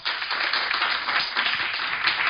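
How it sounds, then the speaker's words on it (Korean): Steady audience applause at a Korean public lecture on AI and the National Archives, dense broadband clapping sustained at even loudness for the full two seconds with no voices over it. "이게 맞으면 박수 부탁드립니다."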